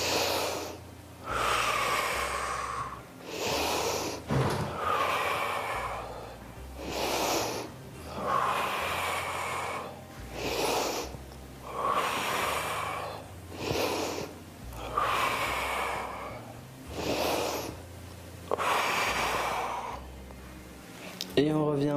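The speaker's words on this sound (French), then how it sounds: "On inspire sur la descente et on souffle sur la montée." Rhythmic breathing during a bodyweight strength workout: about eight slow cycles of audible inhales and forceful blown exhales, close and steady, with short pauses between.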